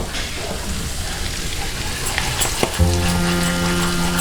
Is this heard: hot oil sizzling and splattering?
yes